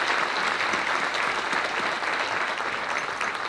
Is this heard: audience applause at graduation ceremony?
yes